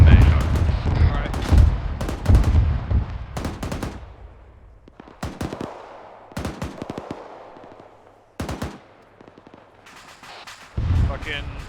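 ArmA 3 gunfire, with sharp bursts of shots coming in irregular clusters, some near and loud and others more distant with echo tails, under intermittent radio-style voices.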